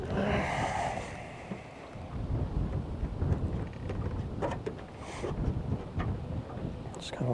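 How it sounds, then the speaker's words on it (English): Wind buffets a fishing boat, gusting and rushing against the microphone with faint water and hull knocks. Occasional voices are heard under the noise. "Just kind of waiting for the wind maybe to die a little bit."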